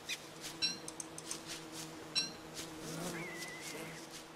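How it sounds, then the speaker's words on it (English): Bees buzz softly in a video game, a faint, steady drone with scattered light clicks and taps over it and a brief higher tone near the end. "I hear bees."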